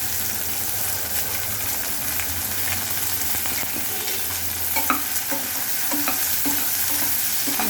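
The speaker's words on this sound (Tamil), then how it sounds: "இதை இப்போ நல்லா வதங்க வைக்கணும்" Small sambar onions sauté with salt in a pan, giving a steady close sizzle with scraping stirs and soft clinks of a spatula throughout.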